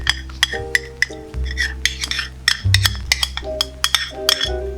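Garlic and sesame oil are stirred in a bowl for cireng dough, with a utensil clinking and scraping against the dish in quick, irregular strokes, close and clear.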